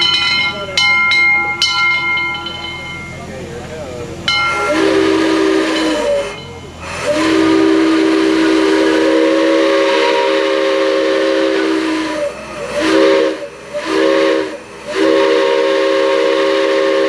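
Steam locomotive No. 9 sounds its whistle, loud sustained hissing blasts that cut in and out in several bursts, with steam hiss and a clanging bell earlier and voices briefly nearby.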